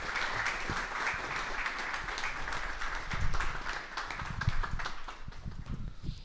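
An audience at a business conference on Africa applauds to welcome a speaker to the stage: sustained, dense clapping from a sizable crowd, swelling in places, with no talk over it.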